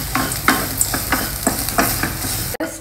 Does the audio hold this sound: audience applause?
no